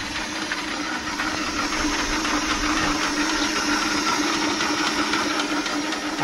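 A small pump runs steadily in a home crayfish breeding setup, a continuous loud mechanical hum with a hissing, churning texture that holds unchanged throughout with no voices.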